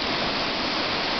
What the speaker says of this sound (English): the water's moving quite quickly down here